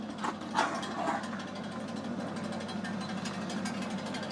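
ArtMash GKP-4-220 household 220-volt pellet mill making broiler feed pellets, running with a steady mechanical grinding hum and rapid rattling clicks, with a few louder knocks near the start.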